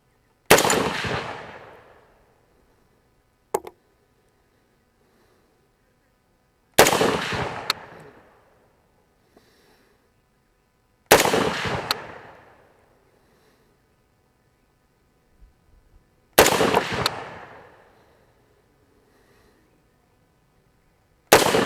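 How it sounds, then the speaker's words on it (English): Five loud rifle shots from a .308 semi-automatic gas gun ring out one at a time with long pauses, each sharp crack trailing off in a long outdoor echo. "thank you for giving me the toughest 308 gas gun on the planet"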